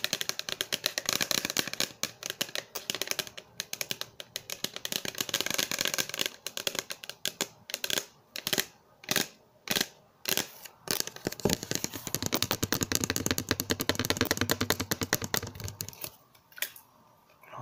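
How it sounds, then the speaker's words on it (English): Irregular fingertip tapping, fast and uneven, clicking close up in scattered flurries with brief pauses, then a dense run of quick taps before trailing off. "You do chaotic tapping."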